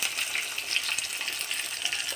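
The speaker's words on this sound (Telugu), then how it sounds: "ఇప్పుడు కొంచెం పోపు వేగినాక చిన్నుల్లిపాయలు కొంచెం ఇలా చితక కొట్టుకొని తాలింపులో వేసుకోవాలి" Tempering sizzles and fries in a pan while cooking amaranth leaf pulusu, a dense close crackling hiss that holds steady throughout with no speech.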